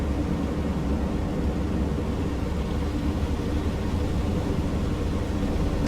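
Steady, broadband drone of the Junkers Ju 52's engines idling in Microsoft Flight Simulator, a constant rumble with no breaks.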